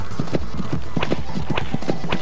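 A horse gallops across desert ground in the Horse Racing 2016 video game, with fast rhythmic clip-clop hoofbeats close and steady throughout the short stretch.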